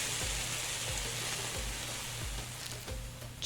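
Onions frying in a pan in the cooking game Venba sizzle steadily and closely, a continuous bright hiss over a soft repeating music bed.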